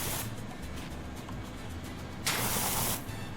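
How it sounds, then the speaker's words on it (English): A pressure washer sprays down a flatbed in the game PowerWash Simulator 2, giving a steady broadband hiss that swells into a louder, brighter blast for about half a second near the end. "Spray down this flatbed area,"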